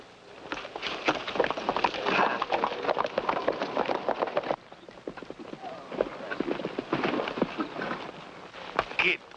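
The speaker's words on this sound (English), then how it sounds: "The horse is throwing, is dragging its rider." A horse dragging its thrown rider beats out quick, uneven clip-clopping hooves on hard ground, close and busy for the whole stretch.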